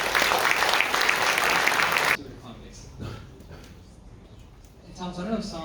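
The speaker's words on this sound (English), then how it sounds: "Round of applause" Audience applause at an entrepreneurs' event, a dense burst of clapping for about two seconds that stops abruptly, followed by quieter room sound and talk.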